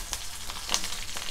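Slit green chilies and onion fry in hot oil with whole cumin, ginger and garlic, a steady close crackling sizzle with scattered sharper pops and no talking.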